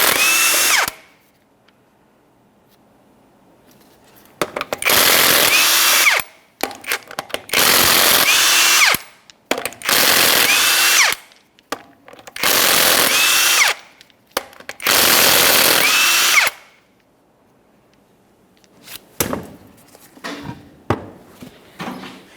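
Impact tool on 21mm lug nuts of a 2004-2008 Ford F-150 front wheel: six loud, close bursts of whirring and hammering, each about 1.5 seconds long, separated by short pauses, with lighter clatter near the end.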